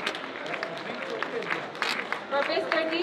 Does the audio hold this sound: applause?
yes